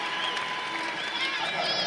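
Spectators roar and cheer steadily at a men's sabre bout at the World Fencing Championships in Moscow, a dense, continuous crowd noise with shouted voices rising above it.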